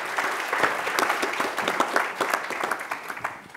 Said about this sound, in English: we should all give her a round of applause